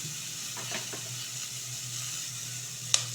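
Yam pieces with coriander powder fry in a pan, a soft, steady close sizzle with a few light stirring scrapes and a brief sharp clink near the end, no voices.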